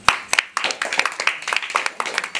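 Loud, close hand clapping from a few people at a Maithili village wedding, sharp claps following a loose rhythm for a couple of seconds with a lively crowd murmuring underneath.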